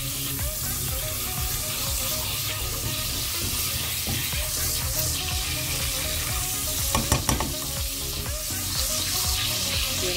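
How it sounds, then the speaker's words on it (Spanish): Butter and salt sizzle steadily in a pot on the stove while being stirred for popcorn, a close, continuous frying hiss with occasional scraping clinks. "La sal la revolvemos muy bien. Que se derrita bien la sal,"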